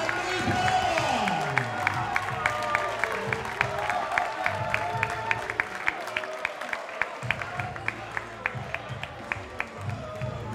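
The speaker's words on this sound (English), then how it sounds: "Big round of applause for Mike Keeble and Lee Barber!" Crowd at a boxing event cheering and clapping for the boxers after a fight, rapid scattered claps rising over a noisy hall with murmuring voices and an announcer's amplified speech underneath.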